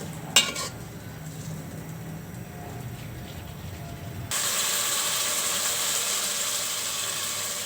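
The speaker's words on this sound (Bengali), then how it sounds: "মশলাগুলো ভালো করে কষিয়ে নিব।" Spice paste stirred and sautéed in a pan for a lau and ilish fish-bone dish, with close metal scraping and clinks against the pan, then a steady louder sizzle taking over partway through.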